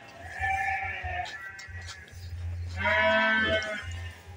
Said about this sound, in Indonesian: Biasanya yang bising tuh domba selalu.